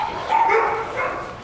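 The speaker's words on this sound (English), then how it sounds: "She's doing good past the barking dogs." Dogs barking nearby during a dog training session, a short burst of loud, rough barking that fills the moment with no talking over it.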